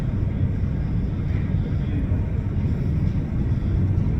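A Delta Airlines jet taking off at Hartsfield-Jackson International Airport in Atlanta, heard as a steady, distant low roar of engines without pause and with no talking.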